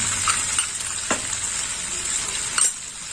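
Poppy seed paste sizzles steadily in a hot pan, a continuous hiss of frying broken by a few brief clinks and scrapes of a spoon, close and fairly loud with no talking.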